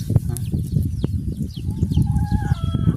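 Chickens cluck and chirp close by on a farm, with small chicks peeping, busy overlapping calls over a rustling background.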